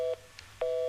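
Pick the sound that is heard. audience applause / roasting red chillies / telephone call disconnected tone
telephone call disconnected tone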